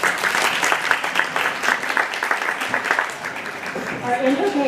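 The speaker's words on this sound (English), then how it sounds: "a round of applause." Audience applause at a community parade-of-tables event, steady and sustained clapping from a room full of people throughout, easing slightly near the end.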